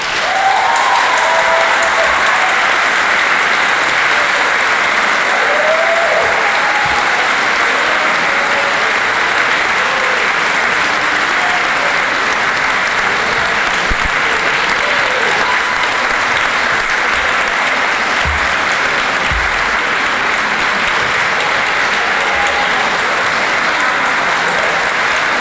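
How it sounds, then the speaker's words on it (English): Sustained applause from an audience at a high school academic awards ceremony, steady clapping from many hands filling the hall throughout with no speech over it. "So please have a round of applause for Colin Huang and Jennifer Day."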